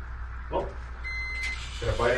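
An ice fishing tip-up bite alarm on Mille Lacs, set for pike, gives a short, thin electronic beep. Wind and outdoor rumble run underneath, and people talk briefly just before and after it.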